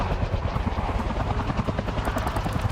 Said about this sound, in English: Tell the helicopters to take off.